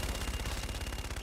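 Rapid, rhythmic aircraft cannon fire from a gun run in Call of Duty: Infinite Warfare, heard as a steady stream of rattling bursts over the full length with no talking.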